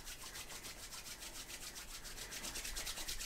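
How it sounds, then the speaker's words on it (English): Palms rubbed briskly together to build warmth, a steady close swishing friction with a regular back-and-forth rhythm, alone in a quiet room during a guided meditation. "start rubbing your palms together to create some heat"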